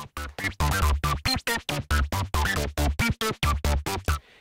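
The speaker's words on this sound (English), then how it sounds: "Next up, we have a little bit of distortion. We have soft clip here," A rapid run of short, punchy synth lead notes with soft clip distortion giving a gritty, saturated edge, played in a steady staccato rhythm, loud and upfront before cutting off.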